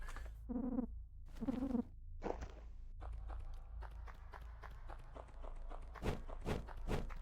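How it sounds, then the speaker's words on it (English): Quiet footsteps from the video game LISA The Painful Definitive Edition tap in a loose series of soft thuds against faint background game sounds. "Okay, it's like your footsteps."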